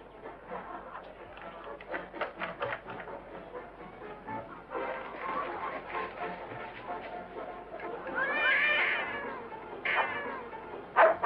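A cat meows a few times in a scene from a Western feature film, the high, drawn-out cries rising near the end over a busy background of other sounds.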